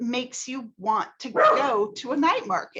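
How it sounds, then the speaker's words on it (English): A dog barks and yips several times in short bursts close by, mixed in with a person talking. "Sorry about the dog."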